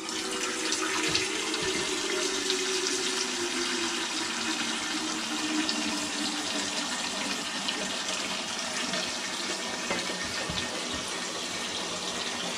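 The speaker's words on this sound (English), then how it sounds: "I'm going to pour water." Water pours steadily from a tap into a very large dish, a continuous splashing stream whose pitch shifts slowly as it fills, close and alone.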